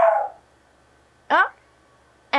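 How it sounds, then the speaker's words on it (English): A dog barks three times, loud and close, with short pauses of near silence between the sharp yaps. "you're not dreaming about barking dogs."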